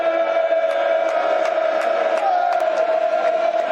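A football crowd at a Millwall vs Leicester City cup match in the stadium, a sustained chanting roar with a steady sung tone and scattered sharp claps or shouts over it, alone for a few seconds.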